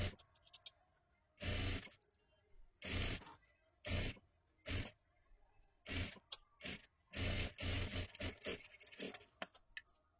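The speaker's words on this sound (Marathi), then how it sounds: "आता इथे आपल्याला पुन्हा एकदा डबल शिलाई मारून घ्यायची आहे." A sewing machine runs a double line of stitching along a sleeve seam in bursts, about a dozen short runs of whirring with brief pauses between them, close and clear with no talk.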